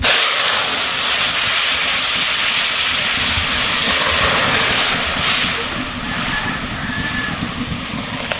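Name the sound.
lentils (dal) added to a hot pan, hissing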